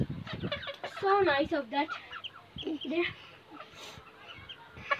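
Small bantam chickens cluck and call close by in a backyard flock, the bird sounds mixing with someone talking over them.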